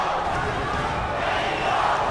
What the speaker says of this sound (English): The chance of Mexico ringing out from the crowd